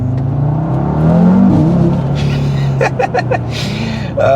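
A tuned Audi RS3 with a five-cylinder engine revs hard nearby, a loud, deep snarling drone that swells and then breaks into several sharp crackling bursts toward the end.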